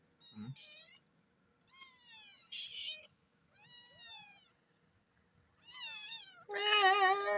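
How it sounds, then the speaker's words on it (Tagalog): A domestic cat meows repeatedly in short, close, fairly loud calls separated by pauses, the last ones longer and more drawn out, with no talking over them. "Ang ganda ng pusa namin"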